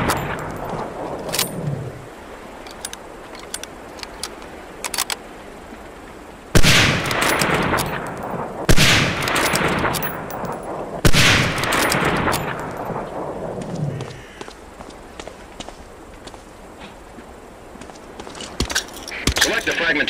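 Shots from a Springfield 03 sniper rifle in the WWII video game Medal of Honor Allied Assault, fired at a training range. Three loud cracks each ring out into a long rolling echo, with quieter clicks and handling noises between them.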